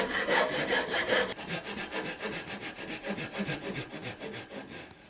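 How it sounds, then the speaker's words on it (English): A hand saw's crosscut teeth rough-cut a hardwood blank for a Swedish butter knife, with rhythmic rasping back-and-forth strokes, fast at first and then slower and steadier, close up and alone. "we'll rough cut this out with our saw"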